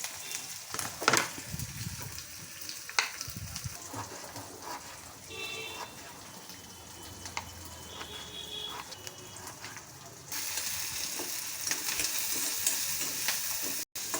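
Onion, green chilli and curry leaves frying in a pan, a soft sizzle with scattered stirring clinks and a brief voice, the frying swelling louder toward the end.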